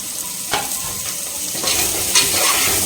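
Carrot being stirred and fried in a pan for jeera samba rice pulao, with a steady sizzle and a few scraping spoon strokes against the pan, close, no talk.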